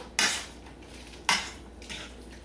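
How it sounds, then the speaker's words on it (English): A utensil scrapes and clinks in a pan while stirring a Cuban picadillo ground beef mixture, with two clear scrapes and a softer third, close up with no voices. "They're going to finish cooking with the picadillo. Mix everything well."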